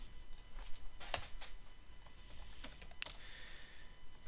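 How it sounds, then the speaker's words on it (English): Someone types a sentence on a computer keyboard, producing faint, close, sparse key clicks over a steady background hiss. "So if I type the sentence,"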